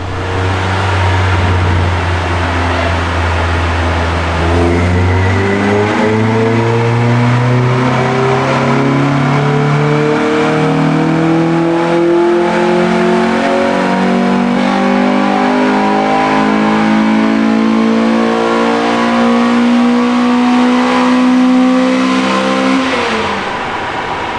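An Acura RSX runs a full dyno pull, its engine climbing steadily from a low drone to a high scream for about twenty seconds before cutting off, loud and close with no talking.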